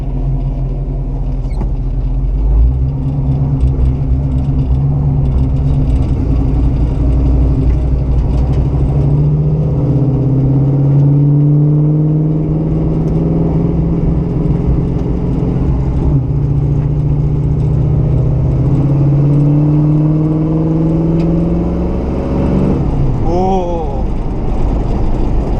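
A 1969 Buick Special Deluxe with an empty power steering pump drives down a road, its engine loud and close, climbing in pitch through gears and easing off, over a constant road rumble.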